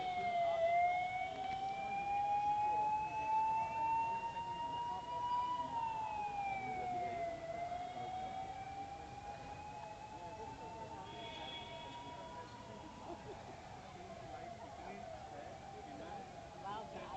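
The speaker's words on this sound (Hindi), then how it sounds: "सायरन की आवाज़ें भी सुन लीजिए आप।" Sirens wail across a darkened Patna during a citywide blackout, heard from a rooftop high above the streets; steady rising and falling tones carry on for the whole stretch, moderately distant, with faint background hum.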